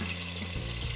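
Water poured into a pot of traditional Greek bean soup (fasolada) with strained tomatoes, a steady close pouring and splashing wash that swells midway through and runs continuously.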